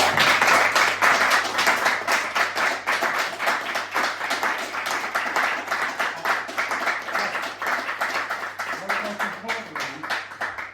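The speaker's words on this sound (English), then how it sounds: "can we have a big round of applause for Rob?" A festival audience gives Rob Munday a big round of applause, dense steady clapping filling the whole stretch at close range, with a constant low hum underneath.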